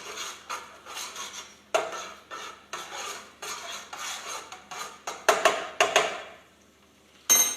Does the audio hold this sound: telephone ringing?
no